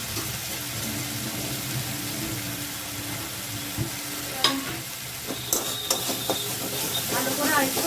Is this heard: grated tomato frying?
yes